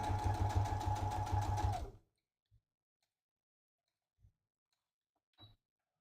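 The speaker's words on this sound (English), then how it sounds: "And then I'm going to backstitch again." A sewing machine stitching a drawstring project bag whirs loudly and steadily for about two seconds, then stops, leaving near silence broken by a few faint, isolated clicks.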